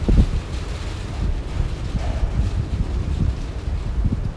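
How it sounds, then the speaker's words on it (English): Strong gusty wind near Tehachapi buffets the microphone with low rumbling roars and irregular surges, loud and continuous with no voices. "the wind is insane. It is tough to walk against."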